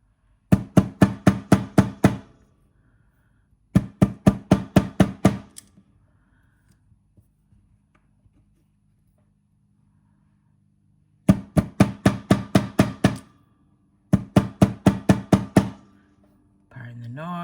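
Nylon jaw pliers working on beads for earrings and bracelets make four bursts of rapid, sharp tapping and knocking, each lasting about two seconds, separated by quiet pauses and close to the listener.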